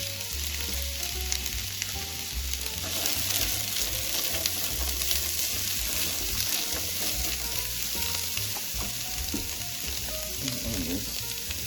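Celery, fennel, sweet peppers and onions hit a hot pot of leftover turkey soup and sizzle steadily, with faint stirring clatter running through the frying; no voices.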